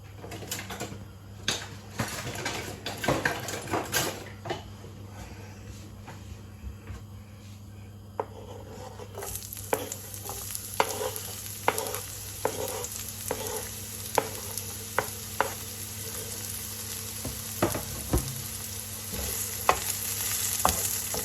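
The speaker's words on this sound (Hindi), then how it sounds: "इसे थोड़ा फ्राई कर लेने हैं।" Onions fry in oil in a pan while a utensil stirs them, producing a constant close sizzle punctuated by frequent sharp scraping and tapping clicks, growing brighter and busier in the second half.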